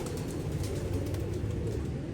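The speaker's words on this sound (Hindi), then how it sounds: "लेकिन पहले आपको 72 नंबर कबूतर दिखाने लगा हूँ बाबा" Pigeon cooing in a loft of show pigeons, a low continuous murmur steady throughout with no speech.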